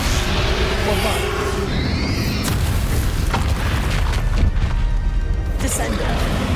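Bombarda explosion spell in the Hogwarts Legacy video game, a loud booming blast followed by crashing impacts amid continuous combat noise and shouted voices.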